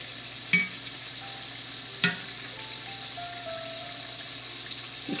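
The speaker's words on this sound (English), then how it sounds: "Just going to let them fry and come to the surface." Layered neureos pastries deep frying in hot oil, a steady close bubbling sizzle with two sharp knocks against the pan and faint background music underneath.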